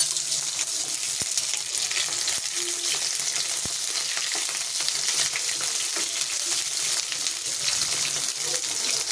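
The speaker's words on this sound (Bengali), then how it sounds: "সর্ষের তেলটা গরম হচ্ছে, আমি বেগুনটা ভেজে নেব" Eggplant fries in hot mustard oil over a lowered gas flame, giving a continuous dense sizzle that stays steady and close throughout, with a few faint clinks and no talking.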